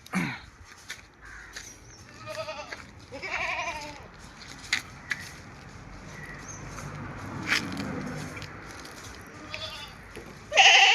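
A Malabari goat kid bleats at a livestock sale near Manjeri, Kerala, with several short bleats spread through the stretch, fairly close, alongside crow caws and other farm background sounds.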